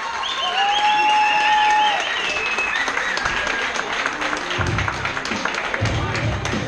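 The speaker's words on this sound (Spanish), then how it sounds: "aplauso más fuerte para ambos peleadores." Applause for both fighters at an amateur Muay Thai bout, a dense crowd clapping with cheers and whistles over it, staying loud throughout before easing slightly, with voices mixed into the noise.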